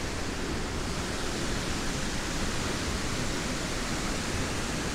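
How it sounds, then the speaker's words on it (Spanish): A waterfall in Ecuador sends up a constant, broad roar of rushing water, loud and unchanging, with no voices over it. "Y esa es la cascada."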